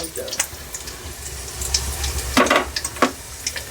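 Dried red chillies frying in hot oil in a pan for vegetable sambar, a steady close sizzle with a few sharper crackles and spoon scrapes.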